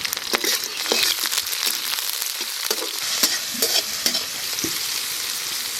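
Onions and dried chillies frying in oil in a wok during traditional Santali cooking: a loud, close crackling sizzle broken by repeated sharp scrapes and knocks as the pan is stirred.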